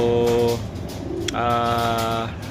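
Racing pigeons coo in low, throaty rolling phrases, two or three calls close by over a soft background murmur, with a brief higher chirp in the middle.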